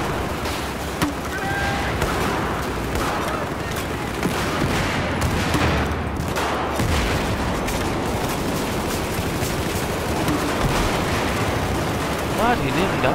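Rapid, continuous gunfire from the Alpha weapon in a first-person shooter game, loud and dense, with overlapping bursts and explosions filling the whole stretch and a voice talking over it.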